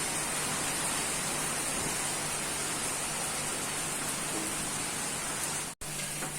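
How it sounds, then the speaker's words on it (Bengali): Heavy rain pours down outside during home cooking, a dense, even hiss of falling water that runs steadily for several seconds before a brief cut. "দেখলে কি বৃষ্টি পড়ছে,"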